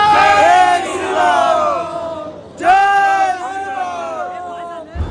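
A crowd in snowy Kashmir chants Jai Shri Ram in two loud, drawn-out shouted phrases. The massed voices ring out close and strong with a short pause between the calls.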